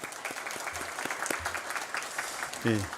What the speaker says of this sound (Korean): 우리 축하하는 박수 한번 하시죠.